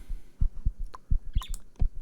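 Heartbeat in the video game Dawn of the Mexica, a low thudding pulse of paired beats repeating steadily at moderate volume, with faint higher game effects scattered over it.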